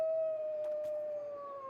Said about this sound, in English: he would do that howl right when I throw the rock